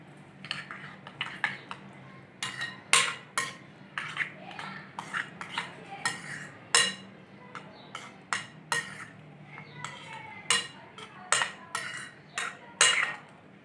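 Cooled boiled potatoes and vegetables being mixed for a Spanish omelette, with a spoon clinking and scraping against a bowl in quick irregular taps and scrapes, close and fairly quiet, with no one talking.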